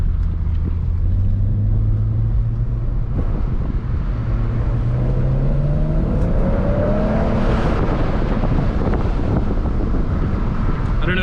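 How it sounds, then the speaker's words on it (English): BMW 335i with an N54 engine and MHD Stage 1 tune driving under an underpass, its exhaust rising in a loud drone with wind noise that climbs in pitch as it accelerates, then crackles and burbles toward the end. "Let's see if we can get a little under the underpass burble."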